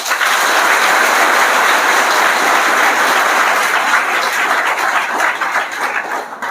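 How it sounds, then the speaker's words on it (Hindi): Loud, sustained clapping from an audience at a literary and music gathering, a dense roar of hands that holds steady throughout and thins slightly at the end. "तो एक बार जोर से बजाइए तो ताली"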